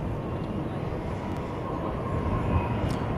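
An American Airlines Airbus A321 arrives at Dallas–Fort Worth airport at night, heard as a continuous low engine rumble at moderate distance.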